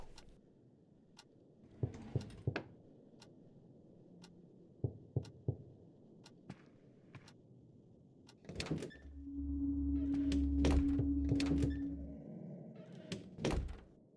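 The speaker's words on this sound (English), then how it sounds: "Who's knocking at my door?" Sharp, distant knocks and thuds in the video game Darkness Within, spaced irregularly over a quiet backdrop, with a low mechanical hum swelling in the middle.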